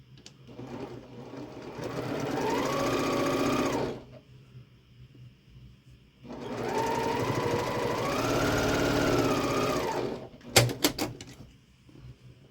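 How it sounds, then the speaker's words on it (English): Two loud bursts from a sewing machine stitching quilt block fabric pieces together, each a steady whirring run of a few seconds with a pause between, ending with a few clicks and knocks. "All right, so I'm going to sew these together."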